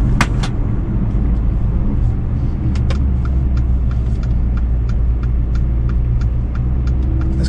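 A Mercedes-Benz GLA 45 AMG four-cylinder engine runs loud and close with a steady, throaty drone, broken by a few sharp crackles and pops near the start.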